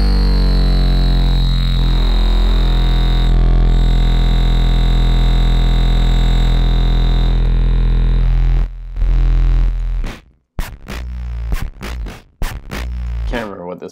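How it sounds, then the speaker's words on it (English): A heavily distorted, buzzing synth tone from an arccos distortion effect drones steadily, then breaks into choppy stuttering bursts and gaps near the end. "This is an arc cos distortion, which is really dramatic."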